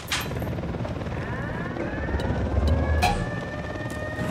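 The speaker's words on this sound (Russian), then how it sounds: "Всем залечь, вертушка." Helicopter in the video game Ghost Recon Wildlands, a steady rotor and engine roar with rising whines and brief sharp bursts layered over it, no talking.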